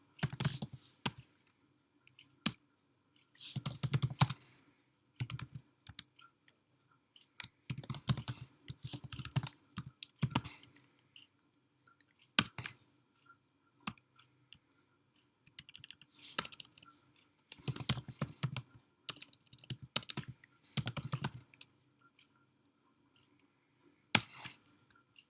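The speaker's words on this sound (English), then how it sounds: "Type these commands in the terminal or commands line to add folder and the components" Irregular bursts of fast typing on a computer keyboard, with pauses between runs of close, crisp key clicks.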